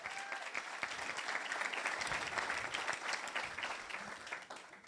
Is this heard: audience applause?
yes